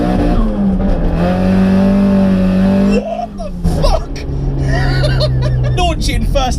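A loud modified Toyota Starlet GT engine revs hard, launching through first and second gears with sustained roaring, a brief dip between shifts, and voices talking over it.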